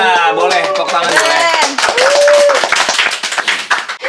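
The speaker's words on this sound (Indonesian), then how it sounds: "Iya, boleh tepuk tangan boleh." Scattered audience clapping at a film-related gathering, sharp hand claps rising over overlapping chatter and a voice at first, then becoming clearer and more prominent toward the end.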